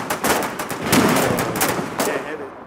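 Suppressing gunfire in the video game Foxhole, a dense run of rapid overlapping shots, loud and close, tapering off at the end.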